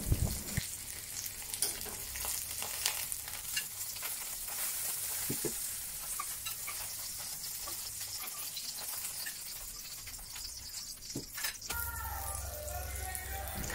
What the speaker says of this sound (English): This step is to ensure the meat paste is thoroughly cooked when both sides have turned golden.